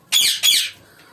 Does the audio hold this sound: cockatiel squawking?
yes